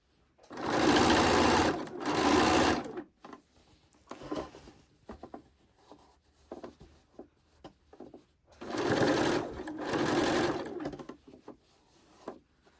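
A sewing machine stitches bias binding around the curved edge of a fabric Christmas tree skirt in two close bursts, then pauses with soft handling sounds before a final run of stitching.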